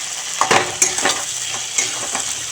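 Boiled vegetables frying in a pan in a home kitchen, a loud steady sizzle broken by several sharp stirring scrapes and clinks of a utensil.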